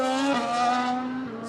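A new 2015 Williams Formula 1 car screams past at a test session, its high-pitched engine whine loud and steady with a slight pitch drop as it goes by, no voices.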